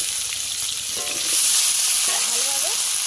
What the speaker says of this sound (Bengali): এবারে সবজিগুলো সব আমি একসাথে দিয়ে দেবো। আলুটা একসাথে দিয়ে দেবো।